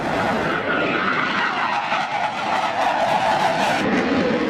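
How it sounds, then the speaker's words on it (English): F-22 Raptor fighter jet in flight, a loud, continuous broadband engine roar that swells slightly and holds steady throughout, with no voices. "the F-22 Raptor is indeed one of the most powerful and agile air superiority fighter"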